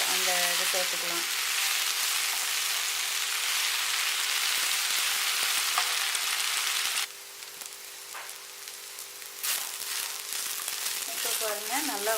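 Okra (lady's finger) frying in a pan makes a loud, continuous oily sizzle, briefly quieter partway through and then crackling again, with a faint voice at the start and end.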